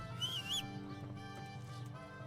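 Horse arriving in the video game Kingdom Come: Deliverance, a brief whinny at the start followed by soft clip-clop and game sounds over a steady low musical background, fairly quiet.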